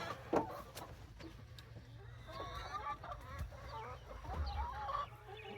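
Chickens cluck and chatter softly inside a homestead coop, a busy cluster of short calls and squawks at low volume with faint shuffling underneath.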